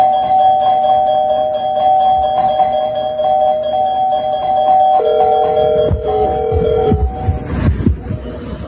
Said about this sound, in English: She's outside ringing the doorbell.